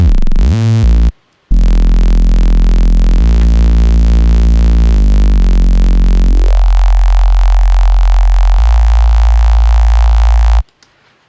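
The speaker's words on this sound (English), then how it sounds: "So it's now this single saw is detuning with the single sub." Synth bass patch of a single saw oscillator slightly detuned against a sub oscillator, giving a loud, sustained buzzy low tone with slow beating movement across several held notes, alone with no talking.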